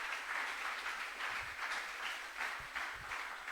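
Congregation at a church service applauding and cheering, a steady dense wash of clapping sustained throughout with brief low thumps underneath, no speech.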